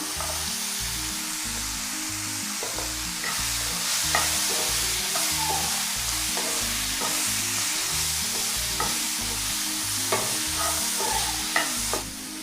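Onion, tomato and coconut sautéed for a country chicken gravy: a constant sizzle with repeated stirring scrapes and occasional sharp clinks of a spoon against the pan, all in a steady rhythm with no voices.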